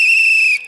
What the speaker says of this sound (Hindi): मेरी सीटी के अंदर की काली मिर्च फंस चुकी है।